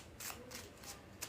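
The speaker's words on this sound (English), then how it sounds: "we are going to shuffle these cards into the deck" Tarot cards are shuffled into a deck in a few soft, quiet riffling bursts, close by but faint.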